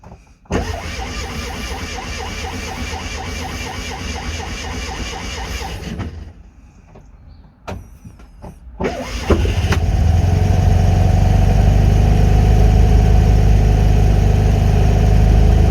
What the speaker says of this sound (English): I will start it up